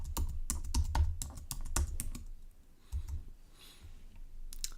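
Fingers type a password on a computer keyboard, with rapid bursts of sharp key clicks close by, a short pause, then a few more scattered taps.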